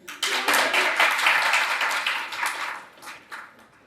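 An audience applauds after a poetry couplet at a book awards event, a burst of many hands clapping close and loud that thins out and fades over a few seconds.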